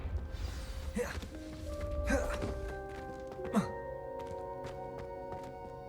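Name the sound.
Confringo spell blasting candelabras in Hogwarts Legacy video game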